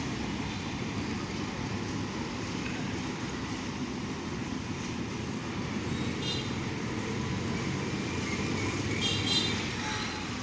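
Two LHB railway coaches hauled by train from the Saidpur railway workshop toward Saidpur station, a steady continuous rumble and rolling rail noise, fairly close and constant throughout with no talk.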